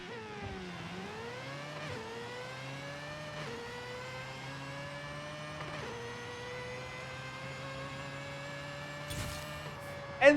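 A 700 hp 2002 Mazda RX7 drag tune in Forza Horizon 5 holds a steady high-revving engine whine, with brief dips and shifts in pitch as gears change, ending in a sharp bump.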